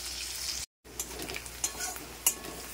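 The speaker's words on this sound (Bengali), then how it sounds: "বাটা মাছগুলোকে একটু ভালো করে ফ্রাই করে নিচ্ছি।" Bata fish frying in a pan, a steady close sizzle with scraping stirs and a few sharp clicks of utensils against the metal, broken by a short gap of silence.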